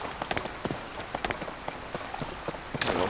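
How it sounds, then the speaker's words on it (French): Rain falling in the video game Zelda Tears of the Kingdom, scattered drops ticking and pattering over a steady wash of rainfall, fairly close, with no voices. "Alors, en plus il pleut."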